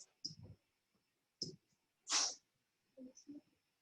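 One sharp sneeze in a quiet classroom during an algebra lesson, sitting between faint voices and small clicks.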